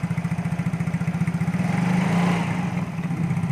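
A fuel-injected motorcycle engine idles with a steady, close chugging pulse, then briefly revs up to a smoother, louder hum before settling back to idle.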